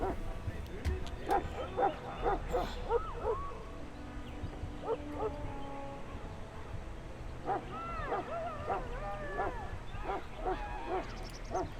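Mabari war hound in Dragon Age: Origins barking, yipping and whimpering in several bursts, loud and close, among castle kitchen commotion with voices in the background.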